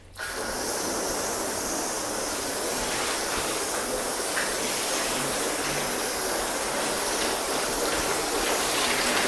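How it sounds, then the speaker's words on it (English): A garden hose sprays a steady rush of water over a car being rinsed after a wax test, a continuous close hiss with no break. "grab our hose, and let's rinse and see exactly what happens"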